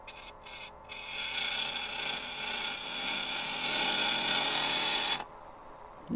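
A turning tool cuts figured English walnut spinning on a lathe, producing a loud, continuous rasping scrape for about four seconds with uneven chattering texture as the tool bounces, then stopping abruptly.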